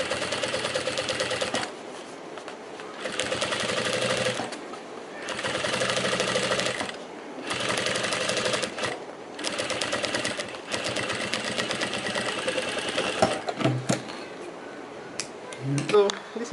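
A sewing machine stitches a corset cup onto its lining in repeated bursts of rapid mechanical whirring, separated by short pauses, close and clear with some handling clatter near the end.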